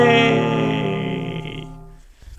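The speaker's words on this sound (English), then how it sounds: "The bells are ringing." Church bells ring out in an audio adventure game, a loud sustained metallic peal with rich overtones that decays over about two seconds, followed by a faint clank at the end.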